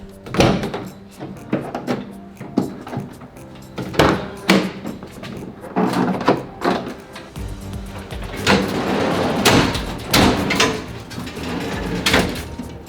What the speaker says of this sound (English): you sneak out the side door